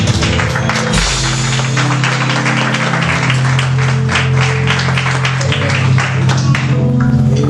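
A church congregation claps along at a youth congress, a steady loud rhythmic patter of hands running throughout over music with a sustained low tone.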